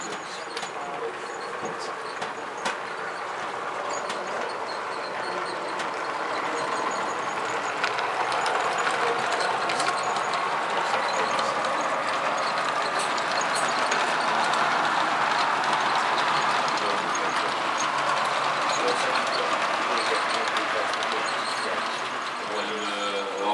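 A continuous rolling rumble with faint clicking, like a small model train running steadily along its track nearby.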